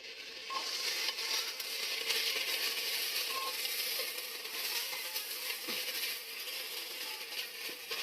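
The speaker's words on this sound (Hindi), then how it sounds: "अब हम इसमें अदरक लहसुन का पेस्ट शामिल कर देंगे और उसे भी अच्छी तरह से फ्राई कर लेंगे" Ginger garlic paste sizzles and fries steadily in a pan for a mutton haleem, with a continuous crackling hiss and a few faint clinks of stirring and no talk.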